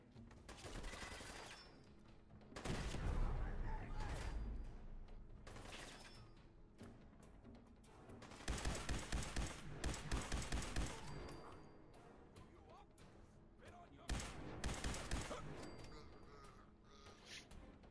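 Gunshots in the video game Fallout 4, recurring bursts of rapid fire with sharp individual cracks between them, fairly faint overall and spread across the clip.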